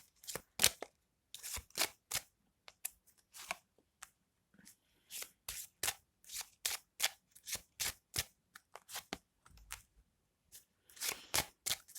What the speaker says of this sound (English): So I'm just going to shuffle until I feel like I have to stop.